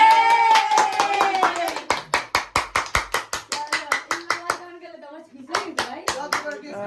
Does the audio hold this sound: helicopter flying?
no